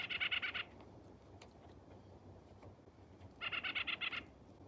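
A bird calls in a snowy winter forest: a loud, near burst of rapid, harsh repeated notes, then a quiet pause broken by faint ticks, then a second matching burst.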